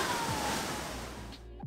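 Waves crash into a narrow rocky inlet at Thunder Hole on the rugged Maine coast in Acadia National Park, giving a loud, continuous roaring surf wash that fades toward the end.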